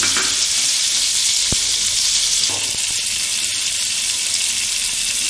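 Oil and butter melt in a pan with a loud, constant hissing sizzle and a couple of sharp clicks near the start.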